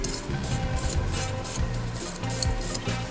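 Gunk is rubbed and scrubbed off dirty Barient 10 winch parts during a rebuild, giving a close, continuous rasping friction with repeated strokes.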